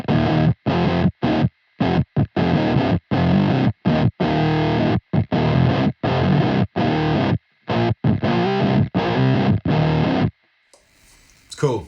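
Chugging palm-muted electric guitar riffs through a Hexed Fuzz Distortion pedal, short choppy bursts with abrupt stops, loud and close, ending in a brief fading tail.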